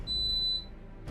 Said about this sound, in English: that's my little alarm going off